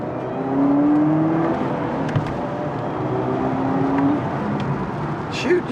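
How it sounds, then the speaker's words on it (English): A 2019 Chevrolet Camaro in sport mode pulls through first gear, its engine note rising in steady sweeps and briefly overrunning as the driver lifts off to shift, a close droning whir from inside the car. "you can actually hear and see the revs overrun a little bit when I let off to shift"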